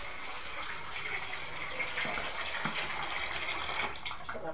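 Cold water running from a kitchen tap, a steady gushing splash that holds throughout at moderate level, with faint knocks of dishes underneath.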